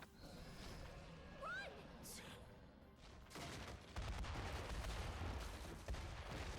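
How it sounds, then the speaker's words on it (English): Explosions and crackling blasts during a running sequence in the video game Metaphor: ReFantazio, a dense, rumbling barrage that grows heavier midway, with someone talking over it. "I forgot about this weird running section full of explosions."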